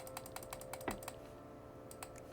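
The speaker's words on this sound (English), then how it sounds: "let me know if you guys can hear the clicking" Rapid mouse clicking while playing Cookie Clicker, a fast regular train of close, crisp clicks that stops briefly then resumes with a couple more, over a faint steady background hum.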